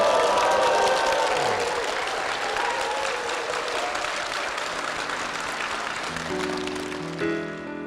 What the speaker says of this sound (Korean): 귀한 간증 들려주신 두 분께 힘찬 박수 부탁드리겠습니다